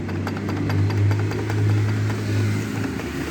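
Honda Bros 150 motorcycle engine running steadily up close with a low, rough drone and faint repeated knocking ticks, a fault heard when the clutch is engaged.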